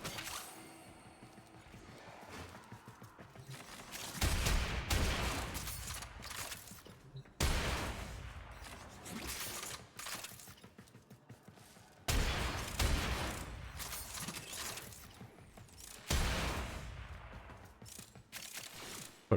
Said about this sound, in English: Fucking shotgun's loud